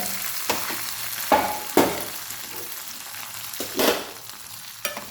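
Pineapple menasukayi, a Karnataka-style sweet-sour pineapple gravy, being stirred in a pan: a few separate scraping stirs over a soft, steady sizzle, close by, with no talking.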